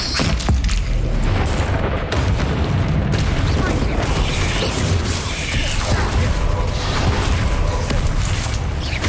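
Booming Bombarda spell blasts from Hogwarts Legacy roll through a loud, continuous wall of combat noise, with rumbling explosions, crackling bursts and mechanical clatter filling the whole stretch.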